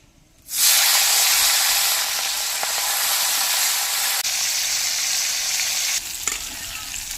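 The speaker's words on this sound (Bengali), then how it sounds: "সরিষার তেল কড়া করে গরম করে নিয়েছি এবার চিংড়ি মাছগুলি ভেজে নেব" Small prawns fry in very hot mustard oil in a pan. A loud, steady sizzle starts abruptly and runs unbroken to the end, close and alone with no voices.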